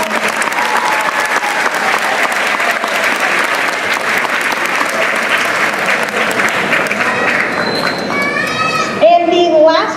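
An audience at a junior high school ninth grade awards day gives loud, sustained applause mixed with children's cheering and chatter, which fades near the end as an adult voice begins speaking.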